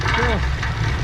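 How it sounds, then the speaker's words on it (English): A 1950s car engine rattling on its first start after sitting, a loud close uneven idle with mechanical clatter and a brief whine, under a voice speaking. "Yeah, got a little rattle."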